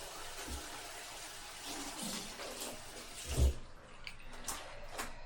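Bikepacking laundry is rinsed by hand in water, mountain biking shorts sloshed and splashed in soft, faint bursts with one louder slosh partway through.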